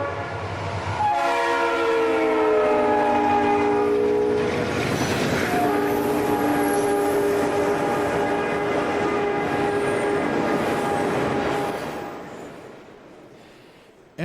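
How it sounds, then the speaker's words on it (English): A Conrail ML440 finished vehicle service freight train sounds its multi-tone horn in long sustained blasts while rumbling steadily past at Oak Harbor, the roar fading near the end. "One of Conrail's new finished vehicle service trains is next."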